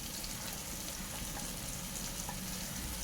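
Ginger garlic paste frying in a pan for chicken curry, a steady close sizzle with soft crackle holding even throughout.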